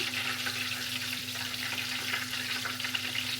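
Fish fries in hot grease with a dense, steady sizzle and bubbling crackle, close and continuous, with a low hum underneath and nobody speaking.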